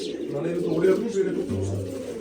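A female pigeon coos with low, throaty notes after flying back to a loft of pet pigeons, while a person talks close by.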